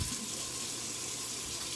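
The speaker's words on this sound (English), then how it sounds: "We're going to rinse this stuff off." Tap water runs steadily into a kitchen sink, rinsing something off under the faucet, a continuous close hiss and splash with no speech.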